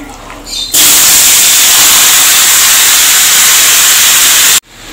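Goat meat dropped into a pan of hot oil with dried chillies, bursting into a loud, steady, close sizzle that holds for several seconds and then cuts off abruptly.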